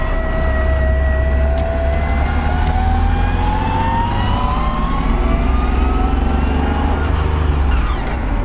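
A BMW E36 track car engine drones loudly and steadily while driving, its rising harmonic tones sweeping upward as it accelerates, with a heavy low rumble underneath throughout.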